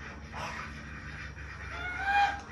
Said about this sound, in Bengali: দেখেন কি সুন্দর ছেড়ে দেওয়া মুরগি।